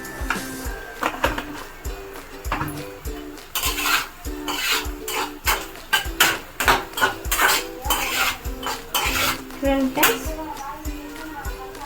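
Green chillies fry in a pan for a paneer curry while a spatula scrapes and clanks against the metal in busy rhythmic strokes over a light sizzle, loud and close throughout.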